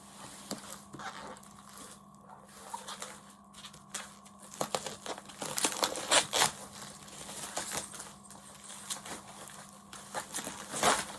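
Close crinkling, tearing and rustling of a package opened by hand without scissors, in irregular bursts with brief quieter pauses.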